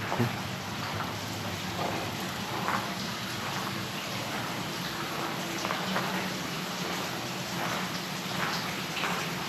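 Water drips and splashes steadily inside a cave at Banyasa temple in Nonsan, South Korea, forming a dense, close patter of drops over a constant damp hiss with no voices.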